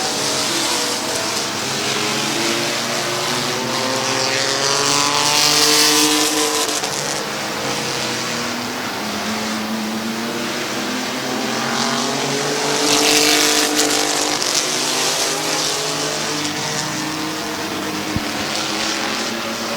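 Race cars racing at Midvale Speedway, a steady loud roar of engines running side by side for the lead, with two swells as the pack passes close, no voices.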